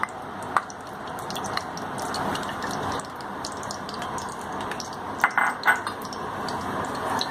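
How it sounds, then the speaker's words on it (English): Desi ghee (clarified butter) goes into a heated pan while making halwa, giving soft sizzling and dripping with a few sharp clinks of utensils against the pan, close and steady throughout. "here I have heated this pan, and we will put our clarified butter into this, our desi ghee here"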